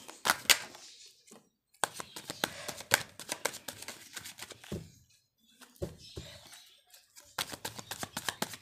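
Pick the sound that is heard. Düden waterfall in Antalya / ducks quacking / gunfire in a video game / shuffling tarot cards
shuffling tarot cards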